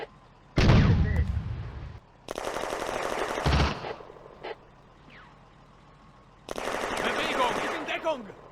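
Gunfire and machine guns rattle in the WWII Eastern Front video game Firefight, with a heavy blast followed by two long automatic bursts separated by brief pauses and scattered single shots, loud and close.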